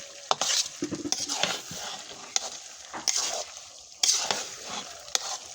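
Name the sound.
stirring potatoes in hot oil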